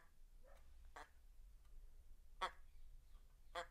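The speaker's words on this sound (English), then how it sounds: "it's a very minor quack" A LEGO boombox set plays a faint, thin duck-quack sound effect: three short, scratchy bursts spaced about a second apart over a quiet background hiss.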